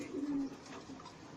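Pigeons of the Saharanpuri kind, kept for sale, give a soft, low coo, faint and brief against quiet background noise.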